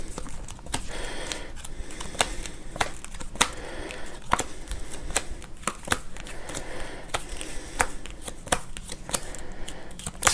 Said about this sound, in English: for the trick you can use any 15 cards you want